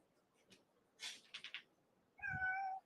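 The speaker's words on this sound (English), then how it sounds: "Meow." A cat meows once clearly near the end, preceded by faint rustling and a few soft chirpy noises in an otherwise quiet room.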